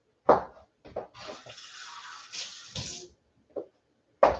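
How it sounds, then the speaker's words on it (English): Water runs from a tap into a pan being rinsed in a kitchen, a short steady splash framed by a few metallic clunks of the pan. "Got our pan, and let me rinse this out."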